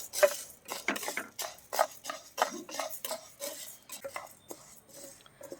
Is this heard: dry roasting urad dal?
yes